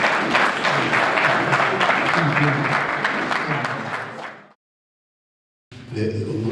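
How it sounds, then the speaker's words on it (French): Applause from the audience at a French-language UN model day session, a loud sustained round of clapping that fades out, drops to silence, then a brief burst of sound returns at the end. "Merci, on s'applaudit."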